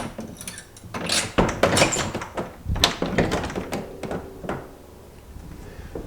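A door at a historic house being closed and opened, a run of wooden thunks, knocks and rattling latch noises at close range, loud at first and then easing off, with no voices.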